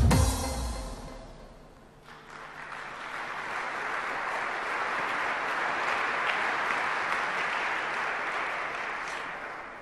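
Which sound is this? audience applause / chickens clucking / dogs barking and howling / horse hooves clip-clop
audience applause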